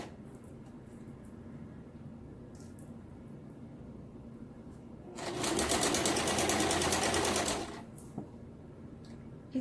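A sewing machine stitches satin slowly with transparent thread, a close, even mechanical whirr of rapid needle strokes lasting about two and a half seconds after a quiet stretch.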